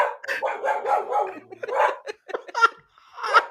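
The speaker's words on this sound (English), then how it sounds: "he's literally in the hallway, turning her head in different directions and barking at different windows" A dog in a hallway barks at the windows several times in short, sharp bursts with brief pauses between, fairly close and loud, with no one talking.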